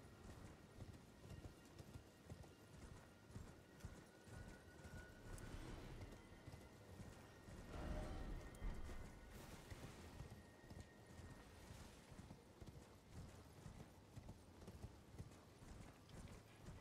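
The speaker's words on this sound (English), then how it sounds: "you spend a lot of time on this horse. Just walking." Horse hooves clip-clop at a steady walking pace in the Elden Ring video game, a quiet, even rhythm that runs the whole length with some faint ambient game sound beneath.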